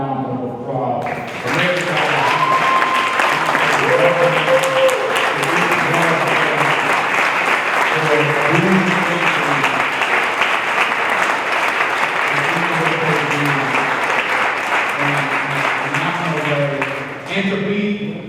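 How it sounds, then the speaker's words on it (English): A large audience claps loudly and steadily for about sixteen seconds, honoring local entrepreneurs at an award presentation; the applause swells quickly, holds dense and even, then tapers off near the end. "I think they deserve a strong round of applause."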